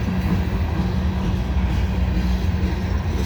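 A heavy CSX coal train with two locomotives, stretched to about 830 axles, rolls past close by as a continuous loud, low rumble of wheels and cars with steady clatter.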